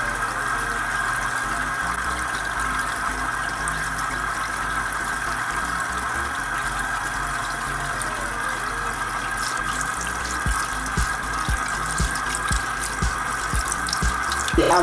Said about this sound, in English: The water is running clear, so I assume that this is clean.